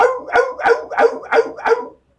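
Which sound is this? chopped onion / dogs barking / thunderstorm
dogs barking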